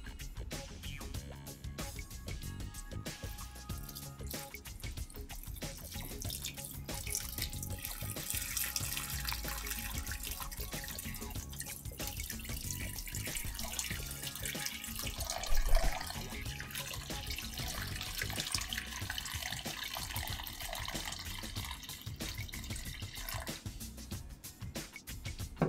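Water is poured into a container, making a steady close rushing, splashing flow that runs for the whole stretch and swells briefly near the middle, with no talking.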